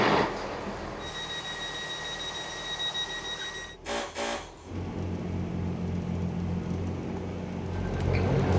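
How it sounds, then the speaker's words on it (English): A Transport for Wales passenger train to Shrewsbury rumbles past with a steady low roar, a brief whining tone and a short burst of louder clattering midway, then continues rolling. "And our last train is this Transport for Wales service to Shrewsbury."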